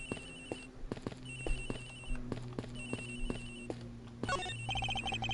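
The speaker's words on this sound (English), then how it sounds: "Agent Hicks' phone! It's ringing from somewhere, sir!" A phone rings in the Ace Attorney Investigations video game, with repeated electronic ring bursts at a steady rhythm and a brighter jingle near the end, mid-loud and with no talk.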